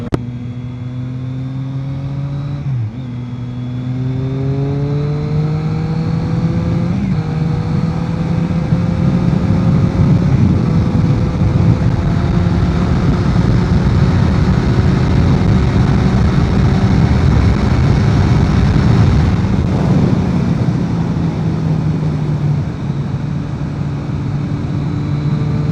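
A 2020 Triumph Street Triple 660 S motorcycle, A2-restricted version, accelerates in sixth gear, its engine note rising steadily and loudly for a long continuous pull, close to the microphone with strong wind rush and no talking.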